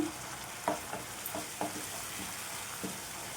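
Chili powder being stirred into potato kurma in a pan, a soft low sizzle under a few light spoon taps and scrapes, quiet and close, with no talking.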